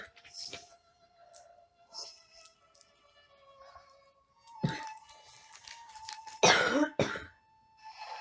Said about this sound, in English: I honestly didn't start coughing like this until I started filming.